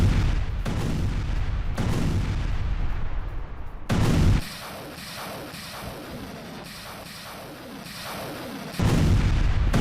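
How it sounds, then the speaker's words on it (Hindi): Russian artillery shelling Ukrainian positions, filmed at the front line: heavy booms and sharp blasts strike near the start and end, with a quieter crackling stretch of rumbling fire between them. "रूसी आर्टिलरी का यूक्रेनी ठिकानों पर शेलिंग"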